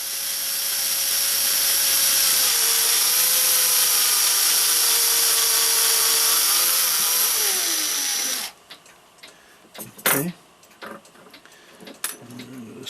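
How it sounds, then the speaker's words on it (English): A reamer is turned through a freshly pressed 3 mm bushing in a brass clock plate, making a steady whirring run for about eight seconds that stops abruptly, followed by scattered clicks and handling knocks. "and then ream it out, and we'll be rebushed."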